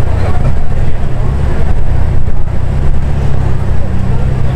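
A loud, deep BMW exhaust with VRS downpipe and non-resonated AWE switchback exhaust rumbles steadily, droning at low pitch throughout with no pauses.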